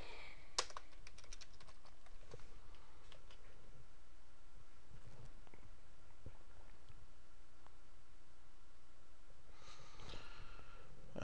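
Typing a username and password on a computer keyboard during an Office 365 PowerShell login: scattered soft key clicks in a quiet room, ending in a quick burst of keystrokes.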